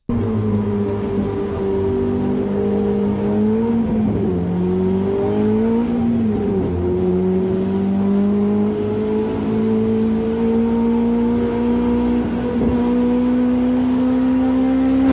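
A car moving through a scene in an AI-generated Seedance 2.0 video gives a steady engine hum with tones that dip and rise, holding at an even loudness with no pauses.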